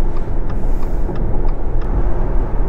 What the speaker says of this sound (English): cruise control is set and we are spinning around 2300 RPM, cruising along just under 80 miles an hour here